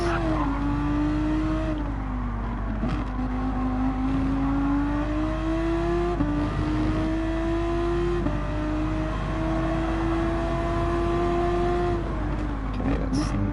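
Race car engines in Gran Turismo 7 whine steadily at high revs, pitch climbing through each gear and dropping at shifts, with a second car's engine close alongside during an overtake, loud and continuous.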